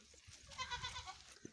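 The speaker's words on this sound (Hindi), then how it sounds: "ए बकरी" A goat sold and shipped by cargo to Lahore gives a faint, brief, wavering bleat, heard at a distance with a little low rustling noise around it.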